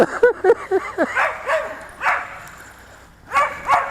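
A dog barks and yips in rapid, close bursts at a Hanvon Go Go Bird RC flying bird, with whining in between and a final pair of barks.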